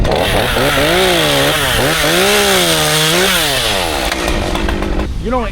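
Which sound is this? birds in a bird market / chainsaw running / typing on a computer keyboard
chainsaw running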